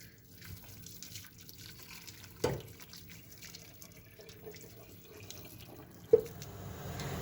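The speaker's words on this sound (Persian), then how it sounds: "یه آب جوش میریزم بهش کاملا که اون کفی که روش مونده کاملا از بین بره" Boiling water is poured over a cleaned sheep's head and trotters, a soft running trickle and drip with two sharp knocks against the vessel partway through, close by and otherwise quiet.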